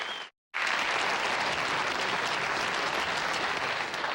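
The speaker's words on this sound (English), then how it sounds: "applause." Studio audience applause on a 1974 late-night television talk show, a sustained dense wash of clapping after a brief silent gap at the start, loud and steady throughout.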